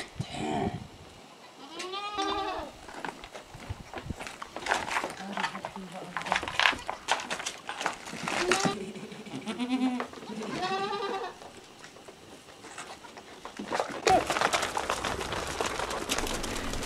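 Goats bleat repeatedly in a herd, a mother goat and her small kid calling in short wavering cries near and far, while a goatherd and others talk in between.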